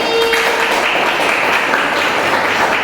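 Classmates clap for a student receiving a reward in a school classroom, a loud, continuous spatter of hands filling the room without pause.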